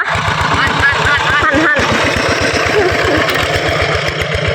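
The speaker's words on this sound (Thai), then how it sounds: "รถไถเดินตามของเรา" A Thai walking tractor engine chugs in a rice field, its rapid, steady single-cylinder thumping loud and close throughout, with a brief word spoken over it.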